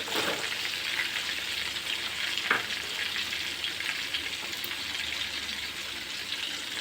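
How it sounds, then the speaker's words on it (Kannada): Mustard seeds and garlic fry in hot oil for tomato pickle, a steady, close hiss of sizzling that runs unbroken, with one brief pop midway and no talking. "ನೋಡಿ ಫ್ರೈ ಆಗ್ತೈತೆ ಇವಾಗ ಸ್ವಲ್ಪ ಸಾಸಿವೆ ಬೆಳ್ಳುಳ್ಳಿ"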